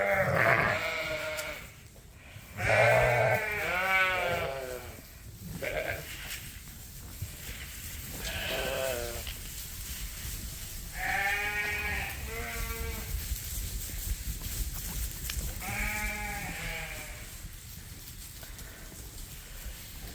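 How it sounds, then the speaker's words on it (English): Rams bleat repeatedly at feeding time on a cold farm, several loud, close calls spread through the scene with shuffling and movement in the gaps between them. "here's all the rams around me"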